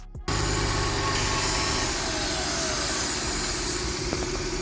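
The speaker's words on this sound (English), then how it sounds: "This is the pump that is making a lot of noise at startup, the one that screams." A Mercedes SUV's secondary air injection pump kicks on abruptly at startup after a brief silence, then runs as a loud, harsh, screaming whirring roar that holds steady and fades slightly.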